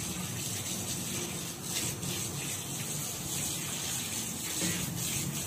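Running tap water pours steadily over vegetables in a basket as they are rinsed, a faint, even hiss that continues without a break.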